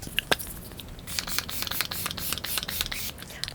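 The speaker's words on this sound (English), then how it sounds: "I'm going to finish everything off with the Rimmel Stay Matte Setting Spray" Several quick short hissing sprays of Rimmel Stay Matte makeup setting spray close by, a couple of isolated bursts followed by a rapid series of spritzes.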